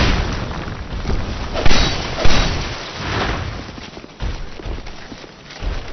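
Fire bomb explosions in the Dark Souls 2 video game land as dull booms and thuds, several spaced blasts over a constant rumbling din, fairly loud and close, with no talking.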